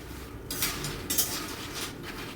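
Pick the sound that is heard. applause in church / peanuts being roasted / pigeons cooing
peanuts being roasted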